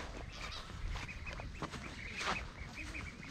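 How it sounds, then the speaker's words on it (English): Young ducks on a farm with goats and exotic chickens quack in short, scattered calls, fairly faint against a busy background of other farm noise. "There's the little ducks."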